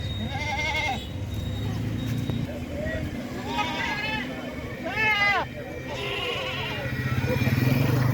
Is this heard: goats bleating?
yes